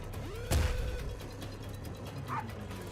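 A dog in the Lobotomy Corporation video game gives a short yip and a soft whimpering bark amid quiet game ambience, fairly faint and brief.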